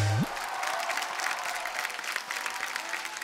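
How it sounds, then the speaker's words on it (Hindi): A studio audience at The Kapil Sharma Show applauds loudly to welcome guests. The clapping is dense and continuous for the whole stretch, with no talk over it. "जोरदार तालियां होनी चाहिए सर।"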